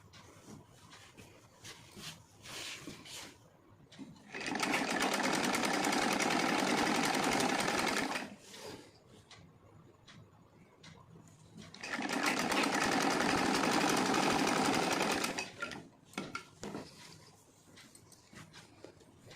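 A sewing machine stitches a silk saree dress to its lining in two sustained runs of rapid, even whirring, each lasting about four seconds, separated by quieter handling of the fabric.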